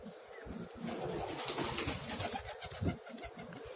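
Several pigeons coo in soft, low, repeated calls close by, over a steady background hiss, with no talk.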